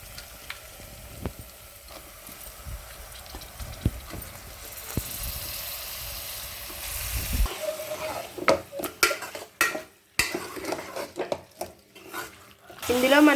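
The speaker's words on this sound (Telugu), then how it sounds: "ఇప్పుడు టమోటా ఫ్రై అయింది, మనం చికెన్ వేసుకుంటున్నాం." Chicken frying in a pan with tomato and ginger paste, a steady sizzle under stirring and scraping, with sharper clatters of the pan and utensils growing busier later on and a voice speaking partway through.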